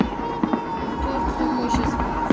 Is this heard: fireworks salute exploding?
yes